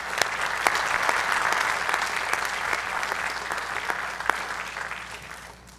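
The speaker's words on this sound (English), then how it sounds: "One more round of applause, ladies and gentlemen, for Dan Willaman." Steady applause from an audience at a high school athletic hall of fame induction, sustained and moderately distant, with sharper individual claps and tapering off at the end.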